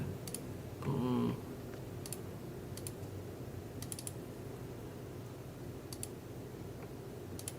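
Computer keyboard keys tapped in short clusters of crisp clicks spaced a second or two apart, quiet and close against a low steady hum, with one brief muffled burst of voice early on while editing in Pro Tools.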